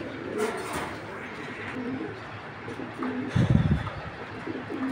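Racing pigeons coo in soft, repeated throaty calls nearby, with a low murmur of background noise and a louder cluster of coos toward the end.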